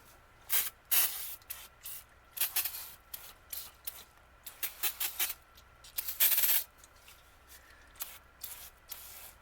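Brake parts cleaner sprays from an aerosol can in short hissing bursts of varied length, close by in a quiet barn workspace, with brief pauses between squirts and a few faint clicks.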